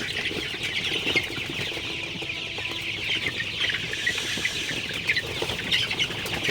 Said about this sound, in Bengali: আমার সোনালি সুপার হাইব্রিড মুরগির বাচ্চাগুলো আজকে তেত্রিশ দিন বয়স